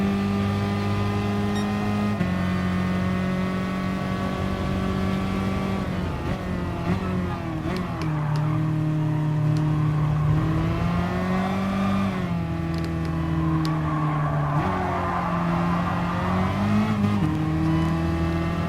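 A Tesla Model S race car in the Gran Turismo racing game runs at full throttle, its electric whine rising and dropping with each gear change and acceleration, loud, continuous and close, with no talking.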